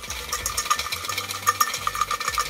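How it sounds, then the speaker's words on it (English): Prize draw entries are shaken and stirred in a container, producing a quick run of light rattling, tapping clatter that stays close and fairly loud, with no talk. "Give it a good shake. Bit of a stir."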